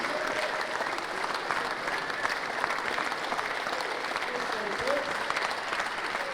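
A live audience at Brentwood Centre applauds Tom Cousins, the Clash of the Titans champion, after the final. The dense, steady clapping holds at an even level throughout, with a faint crowd murmur beneath.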